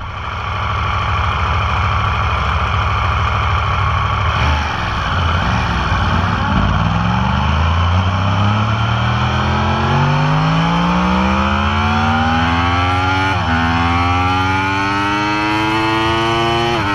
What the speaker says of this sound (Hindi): बाइक में 998 CC liquid cooled 16 valve DOHC inline 4 cylinder engine लगाया गया है